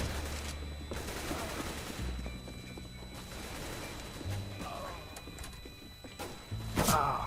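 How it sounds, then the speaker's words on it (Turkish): Gunfire in Counter-Strike: Global Offensive (CS:GO), with sniper shots and bursts of fire, sharp reports scattered over several seconds against game ambience, the loudest cluster near the end. "Adam resmen keskin nişancılık yapıyor orada ya."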